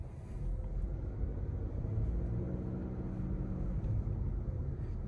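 A 2023 Honda CR-V fitted with Veigel eClassic electronic hand controls pulls away, its engine a steady low rumble that builds gently over a few seconds, heard muffled from inside the cabin without any talking.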